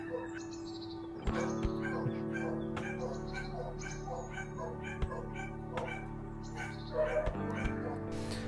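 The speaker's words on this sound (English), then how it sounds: "I love the sounds of the dogs barking in the background." Dogs bark in the background, sharp scattered yelps and barks at moderate distance, mixed with bird-like chirps over a low steady hum.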